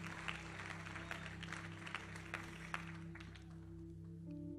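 Congregation clapping for the Lord during a Spanish-language evangelical sermon, a steady wash of applause at moderate level over sustained music tones, with a few sharper claps standing out.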